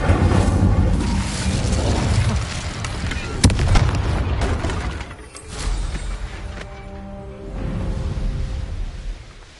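A fiery Incendio spell bursts out in Hogwarts Legacy, a loud booming blast with a sharp crack near the start, rumbling into a crackling roar that swells and fades under game music.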